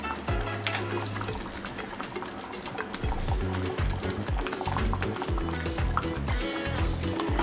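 Cream is poured into paneer butter masala and stirred in a pan, giving continuous wet, liquid sloshing and mixing sounds close up.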